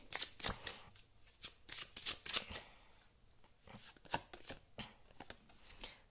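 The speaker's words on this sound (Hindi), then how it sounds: "एक कार्ड और मैं निकालती हूँ" Tarot cards handled and drawn from a deck during a reading, heard as quiet, close bursts of papery riffling and sliding in an uneven rhythm, without speech.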